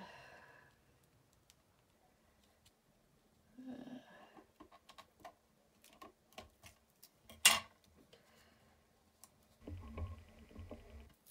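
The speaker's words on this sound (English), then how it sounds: "let me get my sticky scissors and we're going to cut" Scissors snip through card stock for a handmade spinner card in a quiet room, with a few separate crisp cuts and small taps spread over the stretch, faint and close.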